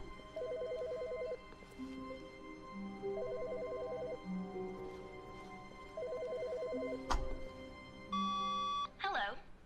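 An electronic telephone trills in The Stanley Parable video game, three repeated bursts of warbling ring separated by pauses, set against a steady game background tone, before a brief pickup clatter and a different tone near the end.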